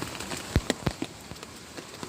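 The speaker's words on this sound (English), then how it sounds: "My gosh, it's a strong rain today." Rain falls steadily and fairly faintly, with a soft continuous patter broken by a few sharper, louder drops striking a nearby surface.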